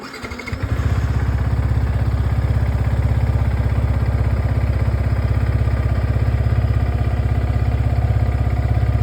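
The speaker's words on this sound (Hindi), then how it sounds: "तो चलिए इंजन को स्टार्ट करते हैं।" A Yamaha R15M motorcycle engine cranks and catches, then settles into a steady, even idle with a rapid regular pulse, close and fairly loud, running alone after an at-home oil change and service.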